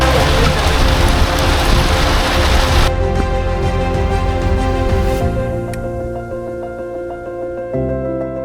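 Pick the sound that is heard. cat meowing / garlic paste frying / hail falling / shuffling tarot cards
hail falling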